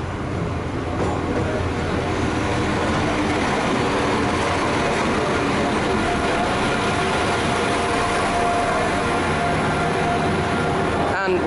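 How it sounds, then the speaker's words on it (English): Steady low rumble of a class 172 train idling at Birmingham Moor Street platform, constant engine hum with station ambience and faint voices in the background. "This is our train to Snow Hill"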